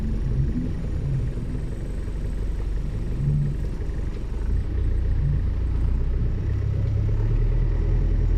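A Toyota Vios pushes through deep floodwater on a flooded street near SM Sukat in Parañaque, giving a continuous low engine rumble and churning water, steady and fairly close, with no talking.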